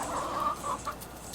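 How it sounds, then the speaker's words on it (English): Chickens cluck in a short burst of soft, tonal clucks, close and fairly quiet over a light background hiss, with no talking. "it's just chicken sounds"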